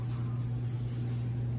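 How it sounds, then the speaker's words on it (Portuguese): A cicada gives a steady, unbroken high-pitched buzz at an army barracks in Brazil, droning continuously over a low background hum. "Uma cigarra, ai não."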